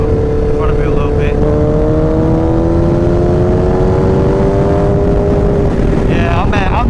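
A Kawasaki Ninja H2 motorcycle fitted with new gearing cruises at around 100 on the highway. A steady engine drone rises slowly in pitch under heavy wind roar, loud and continuous throughout.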